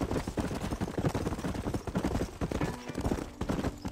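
Horse hooves clip-clop steadily in Red Dead Redemption, a quick, continuous rhythm of close, loud hoofbeats with a brief neigh-like sound partway through and no talk over it.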